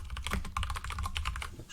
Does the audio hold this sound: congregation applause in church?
no